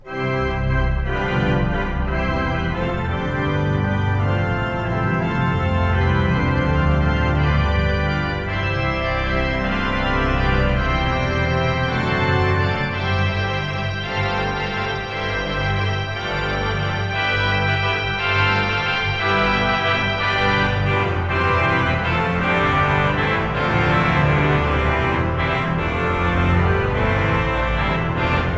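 Large church pipe organ with 121 ranks and a 64-foot stop, playing a full plenum of combined flute stops without trumpets; loud, rich sustained chords moving continuously and filling a reverberant space.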